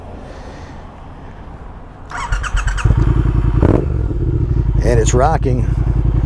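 A 2020 Triumph Speed Twin fitted with an aftermarket Vance & Hines exhaust starts up and rumbles loudly nearby, engine growl rising and staying deep while someone talks over it.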